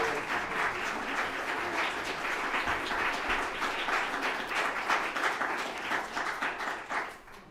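An audience at a school district meeting in Long Beach gives steady, moderately distant applause for a retiring staff member, a continuous wash of clapping with no speech.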